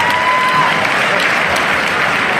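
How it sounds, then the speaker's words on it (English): Crowd applause at a live boxing event at Bowie State University, a dense steady wash of many hands clapping, fairly loud and continuous throughout, with no talk over it. "let's have a well-deserved round of applause for my Wing Warriors"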